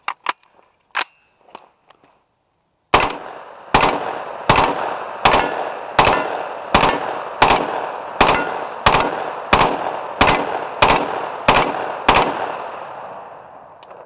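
A string of single gunshots empties a magazine at hard armor plates on an outdoor range, about fourteen sharp, evenly spaced cracks with echoing tails after a few scattered earlier shots.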